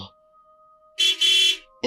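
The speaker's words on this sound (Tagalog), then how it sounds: "Bumusina ang driver." A car horn honks at night, a short toot followed immediately by a longer blast, loud and fairly close against a quiet background with a faint steady hum.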